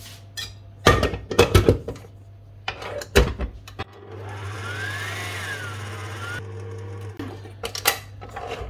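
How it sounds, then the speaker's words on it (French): An electric mixer whirs for a few seconds whisking vanilla cupcake frosting, with bowl knocks and handling clatter before and after. "Alors, on va le fouetter un petit peu."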